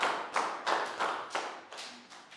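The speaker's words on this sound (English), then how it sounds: "And round of applause for everybody for remembering so well." A group of young children in a Year 3 maths class claps in a steady rhythm, about seven sharp bursts spaced roughly evenly, fairly close and moderately loud, with no talking.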